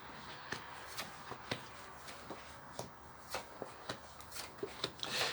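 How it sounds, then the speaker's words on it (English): DAKINI tarot cards are pulled and shuffled, producing quiet, crisp flicks and taps spaced irregularly, close and soft against a low background hush. "I'm going to pull a few cards of the DAKINI."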